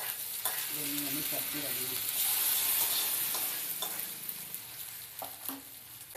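Tempering for chutney crackles and sizzles in a hot pan, a steady close hiss with small pops and occasional stirring clinks, while a voice speaks briefly.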